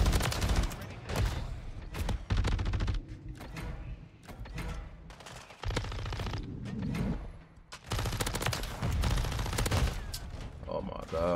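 Rapid gunfire bursts and single shots from a Call of Duty MW3 multiplayer match, including shotgun blasts, dense and loud throughout with mechanical clatter and a few brief lulls.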